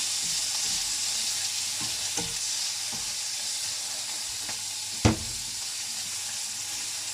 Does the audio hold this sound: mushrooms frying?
yes